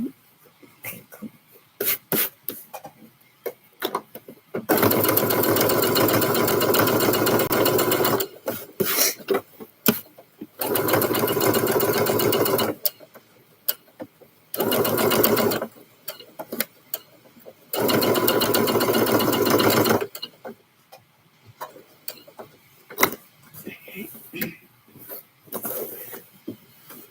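A sewing machine stitches a men's scrub top in three long steady bursts of whirring motor, loud and close, separated by pauses filled with handling noises and a cough.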